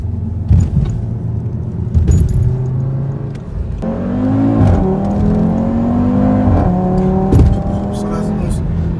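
An Audi TT RS launching hard: the engine note climbs in rising pitch through the gears, loud and close as if heard from inside the car, with brief shift breaks and a voice or two in the cabin.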